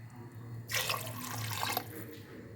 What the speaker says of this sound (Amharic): ከ3 እስከ 4 ብርጭቆ ውሃ እንጨምራለን።